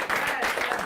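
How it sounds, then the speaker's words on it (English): An audience at a whiskey-themed live show bursts into a short, dense round of clapping that welcomes a new member, steady and fairly loud throughout the brief moment. "Round of applause for our new member."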